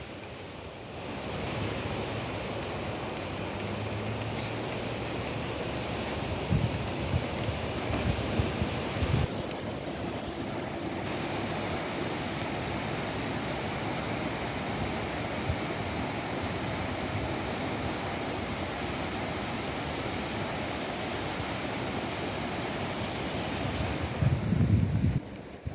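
Water flowing down from higher ground at a bridge spot in Rome, a steady, broad rushing wash that fills the scene without letup, with a few louder splashy bursts near the end.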